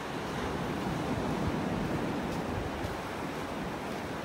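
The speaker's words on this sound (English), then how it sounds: "I'm going to turn around here and walk into the wind." Wind and surf on a beach in North Naples, Florida, a steady broadband rush of waves and breeze across the microphone with no voices.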